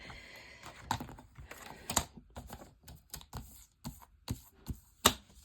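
Scissors cut out paper specimen tags for a junk journal in a series of quiet, close, crisp snips and clicks at an uneven pace.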